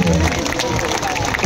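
Audience applause for the performers at a Diwali Pahat mimicry program, loud and dense throughout with crowd noise and voices mixed in.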